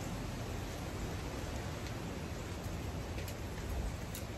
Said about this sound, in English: That's that wind.